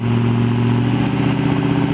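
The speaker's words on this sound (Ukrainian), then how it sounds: "На вулиці дерчать генератори, звідусіль тхне вихлопними газами." Petrol generators run outdoors during a power outage, giving off a steady, loud, rattling engine drone that does not pause.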